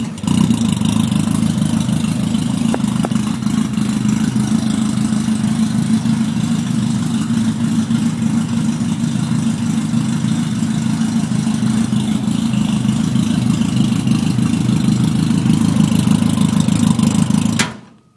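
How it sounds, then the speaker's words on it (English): A 2013 Legends race car engine fires up and settles into a loud, steady, rumbling idle close by, running continuously without talk until it cuts off abruptly at the end. "Should fire up right away."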